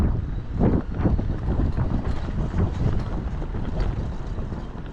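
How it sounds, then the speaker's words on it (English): Strong wind near the Long Beach lighthouse buffets the microphone, a continuous roaring rumble with gusty swells throughout and no talking. "It's going to get a little windy again"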